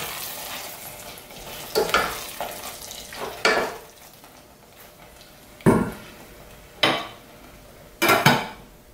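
A spoon stirs kachil puzhukku, a purple yam dish, as curry leaves fry in the pan, giving about six sharp, close scraping strokes at irregular intervals over a faint background sizzle, with no voices.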